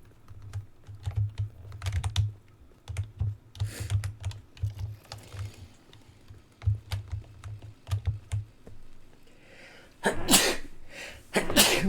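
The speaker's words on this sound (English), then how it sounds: "Big sneezes." A person typing on a computer keyboard while playing Satisfactory lets out two big, loud sneezes near the end, after a long stretch of clicking keys and a low, pulsing hum.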